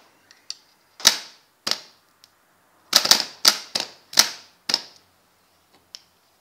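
Starter motor on a Ford Sierra, just repaired, giving sharp dry clicks in irregular bursts, about a dozen over several seconds, each a crisp metallic snap with no cranking between them.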